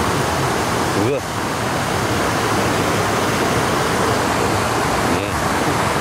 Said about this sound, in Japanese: 水の流れる音